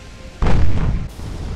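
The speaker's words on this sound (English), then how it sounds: "that was a lucky hit! Oh, we blew out a magazine!" A shell hit in Ultimate Admiral: Dreadnoughts blows up a ship's magazine as one sudden heavy blast that rolls on into a rumbling boom for about a second.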